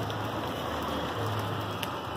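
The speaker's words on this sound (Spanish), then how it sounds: "Sigue lloviendo aquí en la variedad de Siloé" Steady rain pours down in Siloé, Cali, Colombia, a dense continuous hiss of drops on surfaces with no pauses and no voices, close and even throughout.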